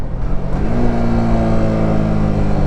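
Yamaha R15 V3 motorcycle engine braking while downshifting, with a loud, steady engine drone, a slight change in pitch, and wind rush throughout.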